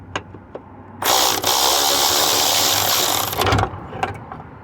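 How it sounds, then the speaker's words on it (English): Cordless ratchet spinning out 14mm bolts on a Honda CR-V AWD driveshaft, one loud steady whirring burst of about two and a half seconds, close up, with faint clicks before and after. "now I'm gonna use my cordless ratchet here"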